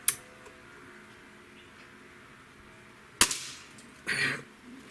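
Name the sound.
Winchester 1250 Magnum Series rifle shot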